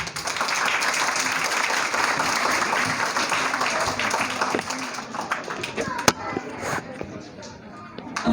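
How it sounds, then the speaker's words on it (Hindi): Sustained audience applause in a hall greets a student speaker at an Islamic educators school event, a dense steady clapping that fades gradually toward the end with a few scattered louder claps. "आप सबकी भरपूर तालियों में अबू बकर"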